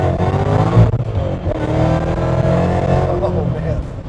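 Ford Mustang GT California Special convertible making 940+ rwhp on Nitto 555 street tires, rolling into the throttle through third and fourth gear with a loud, steady, heavy engine roar and a shift around the one-second mark; a voice talks over it.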